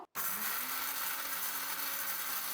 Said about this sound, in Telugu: ఇప్పుడు దీన్ని మిక్సీ పట్టుకుందామండి